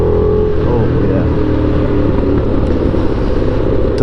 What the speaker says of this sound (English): delicious sounding with that exhaust on as well